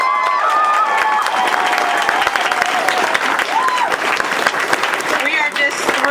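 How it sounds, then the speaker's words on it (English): A crowd at an evening author event applauds bestselling writer Jim Butcher with loud, sustained clapping and some cheering, while voices carry faintly through the ovation. "Let's give another round of applause for Mr."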